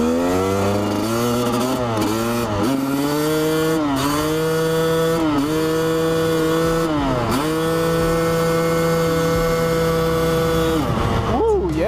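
A Honda CR250 two-stroke dirt bike rides on a wet road, its engine revving up and down through the gears in rising and falling sweeps, loud and close throughout, with a rider's voice over the engine.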